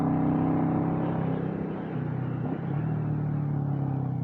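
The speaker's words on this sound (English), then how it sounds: "A Mustang with the top down, as it should be." A car engine rumbles steadily and close by, most likely a Ford Mustang convertible running with its top down on a twisting road with tight curves. The tone dips briefly partway through and then steadies again. No one speaks.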